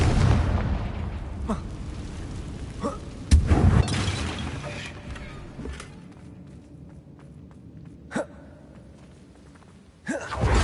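In Hogwarts Legacy, a Confringo spell aimed at a damaged bridge goes off as a deep booming blast, with a second burst later among softer pops, footsteps and ambient game sound.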